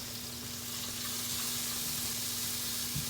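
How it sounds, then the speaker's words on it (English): Broccoli sautéing in a pan gives a continuous, even sizzle and crackle of frying close by, with a faint steady hum underneath and a soft clunk near the end, no voices. "you just take your broccoli and you're going to saute it for a good 8 minutes"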